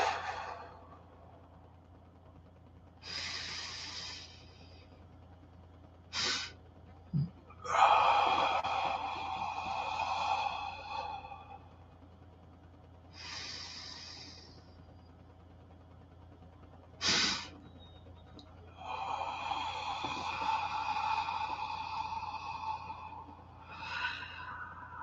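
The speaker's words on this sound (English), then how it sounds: "begin with an exhale" Several forceful exhales during a breathing exercise, spaced apart in bursts of breath noise, fairly close and loud, with no talking over them.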